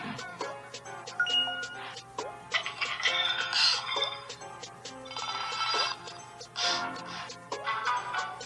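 Several notification tones from an LG Optimus V phone play one after another, bright chimes and ringing alerts heard alone, with no voices.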